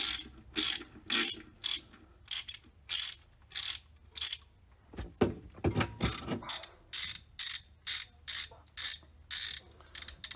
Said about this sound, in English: I'm gonna hold my ratchet right there